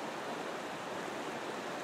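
A river flowing steadily in Kananaskis, an even broadband rush of water, close and continuous with no voices.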